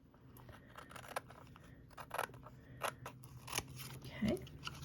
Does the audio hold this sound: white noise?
no